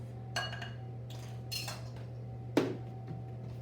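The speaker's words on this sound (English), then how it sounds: "I've got my trusty metal spatula, heap and level off." Metal spatula scraping across a measuring spoon to level white sugar, a few light clinks and scrapes over a steady background hum, with one sharper metallic tap.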